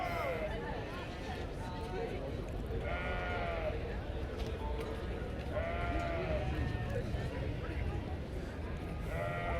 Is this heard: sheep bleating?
yes